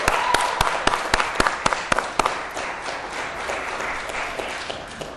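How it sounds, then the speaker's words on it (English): A crowd applauds at the NASDAQ opening bell, beginning with a run of sharp, separate close claps and swelling into dense, sustained clapping that holds steady to the end. "How about we'll start with a big round of applause?"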